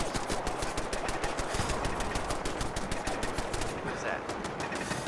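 Rapid automatic gunfire from the video game Fallout 4 rattles on continuously in dense bursts, loud and steady throughout with no pauses.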